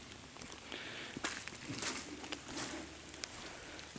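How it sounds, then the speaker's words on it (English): A steady patter of rain falling through trees near Nicks Lake, Old Forge, New York. It forms a dense, crackly wash with occasional louder drips and no voices. "Rain's starting to pick up again."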